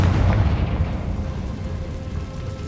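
A Confringo blasting spell explodes in Hogwarts Legacy, a heavy low boom that hits at the start and rumbles away over a few seconds.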